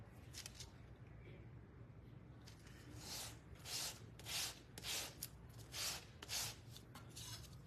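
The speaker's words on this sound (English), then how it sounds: "I'm gonna take an old sandpaper. Probably this one has already got brown on it. And I'm gonna go over it while it's still a little bit wet." Old, already-used sandpaper scrapes over a still-wet painted craft piece, with a few scattered strokes, then a run of rhythmic rubbing passes. The sound is close and fairly soft, with low background hum.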